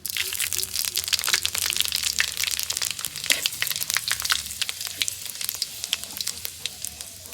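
Dried red chillies and panch phoron sizzling in hot oil, a dense crackling fry with sharp pops and spits throughout, close and loud, with faint voice in the background.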